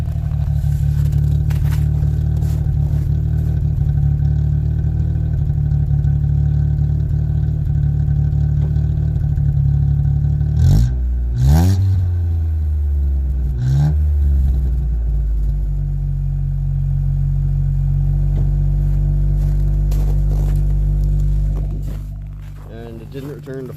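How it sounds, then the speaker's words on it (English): A small three-cylinder engine in a 1989 Chevrolet Sprint idles with a low, steady rumble, then revs up sharply twice before settling back to idle and cutting off near the end. "rev it up a little bit and let you hear that from the exhaust"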